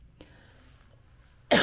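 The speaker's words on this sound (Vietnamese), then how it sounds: "rất xin lỗi anh em mấy hôm nay ho quá" One short cough sounds at close range in a quiet room, preceded by faint throat noises.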